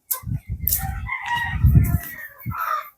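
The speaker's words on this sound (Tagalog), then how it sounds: "Free range chicken. Kami dito, free range street chicken." Free range street chickens with a rooster crowing loudly and close, several drawn-out crows and clucks filling the stretch, with no talk over them.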